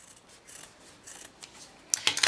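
Scissors snipping away excess fabric from a sewn surgical or cooking cap, a few quiet rustling cuts followed by sharper, louder snips near the end, heard close and alone.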